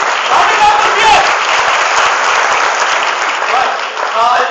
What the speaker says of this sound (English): Can we clap for career launcher